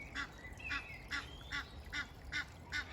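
Canada geese honking near a river, a steady series of about seven loud nasal honks at even intervals over faint outdoor background.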